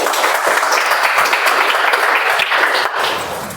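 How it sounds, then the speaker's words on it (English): Audience at a Toastmasters club meeting giving a round of applause, a loud, dense burst of clapping that holds steady and then thins slightly at the end. "Round of applause for them."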